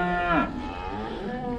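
Cows on a dairy farm moo loudly while being loaded onto a trailer, one long, rich bellow swelling and then trailing off close by, with no talk over it.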